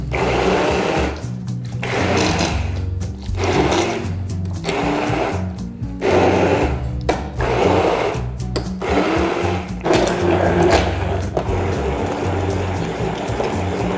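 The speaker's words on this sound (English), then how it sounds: "All right, so we're just gonna blend this up." A blender whirs loudly and steadily as it purees a chili liquid mixture for gordita filling, the motor pitch pulsing and shifting in repeated surges across the whole stretch with no talking.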